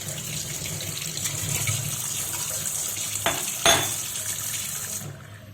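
Running tap water splashes steadily over a gas stove burner being washed by hand in a kitchen sink, with a couple of sharp knocks near the end before the flow cuts off.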